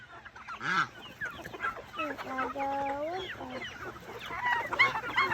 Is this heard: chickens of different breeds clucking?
yes